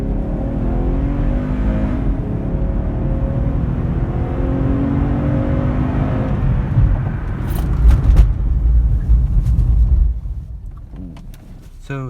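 A Cadillac CTS fitted with sports brakes accelerates hard, its engine roaring loud and close for several seconds before the braking stop, where the drone drops away into a quieter tail with faint rattles.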